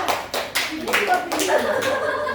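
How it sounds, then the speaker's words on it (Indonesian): Classroom applause from a second-grade group of children, several claps building into a brief scattered round with giggles and voices mixed in. "kita beri aplaus untuk kelompoknya Pinar"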